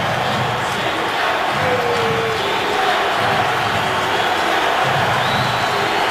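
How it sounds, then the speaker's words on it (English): Large NFL stadium crowd at a Browns vs Broncos game in 2012 booing a referee's call, a dense, steady roar of many voices with no break. "You got to agree with all the fans booing."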